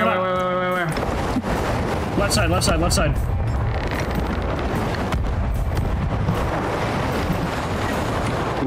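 Ship cannons firing in the pirate video game Sea of Thieves: a few heavy booming blasts spaced apart over wind and sea noise, while players talk over them.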